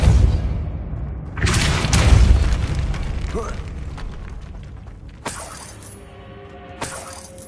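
A Confringo fire-blast spell goes off in the Hogwarts Legacy video game: a loud rumbling burst, then two sharp, crackling impacts a few seconds apart, each fading into a ringing tail.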